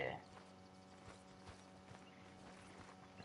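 Horse hooves clip-clopping while a stagecoach is taken to Valentine, faint regular hoof knocks in a quiet scene with a low hum underneath.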